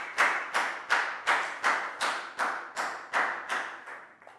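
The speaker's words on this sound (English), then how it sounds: "High five and a big round of applause for Pat, please, guys." A classroom of pupils claps in a steady rhythm, about eleven sharp, evenly spaced claps in unison during a Year 4 maths lesson, fairly close and clear with no talking.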